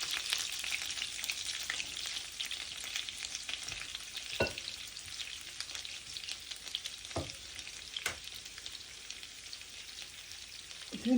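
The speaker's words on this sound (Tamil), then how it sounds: "ரெண்டு பச்சை மிளகாய் சேர்த்து நல்லா வதக்கணும்." Onion, curry leaves and green chillies frying in butter and oil, giving a steady close sizzle with a few sharp spatula scrapes against the pan, and no voices.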